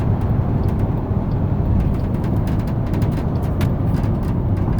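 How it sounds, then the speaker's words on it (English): Van rolling down a ramp, heard from inside as a loud, steady low road rumble and drone with faint ticks and rattles above it. No distinct braking moment stands out. "Let me get to the bottom of this ramp, and I'm going to give it a nice hard brake."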